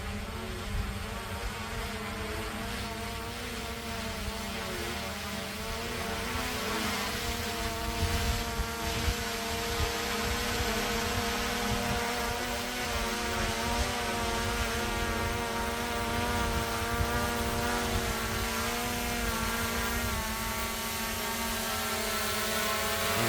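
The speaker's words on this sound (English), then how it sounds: "see how we do with precision landing here" A Fimi X8 SE drone hovers down for a precision landing onto a landing pad, its propellers giving a steady close buzzing drone with fluctuating harmonic whine throughout, no voices.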